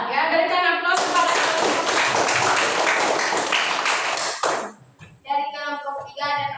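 A class of students bursts into applause, a dense burst of hand clapping lasting several seconds, bracketed by a teacher's speech before and after.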